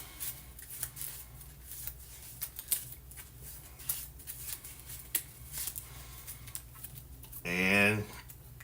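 A pile of red combat cards from a tabletop card game gets shuffled, giving soft, steady papery riffling and flicking throughout, with a short voiced sound near the end.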